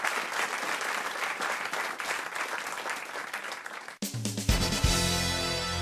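A television studio audience applauds in a steady, dense burst of clapping for about four seconds, then the clapping cuts off abruptly and music follows.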